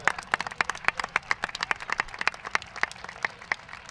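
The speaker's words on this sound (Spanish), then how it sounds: "Un fuerte aplauso para el Centro Médico Costa de la Luz." An audience at a football club's official season presentation gives a round of applause for a medical centre sponsor, with steady, fairly close hand claps in a quick, even rhythm throughout.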